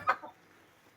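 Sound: chickens clucking

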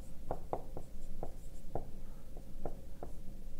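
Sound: writing on a board or paper

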